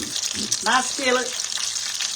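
A fried pie sizzles in a skillet of hot fat, a close, steady crackle with a brief voice rising over it partway through.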